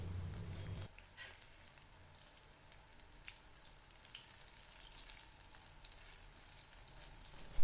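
Veg fish fry pieces crackle in hot oil in a pan with a soft, steady sizzle, faint and close, with no talking.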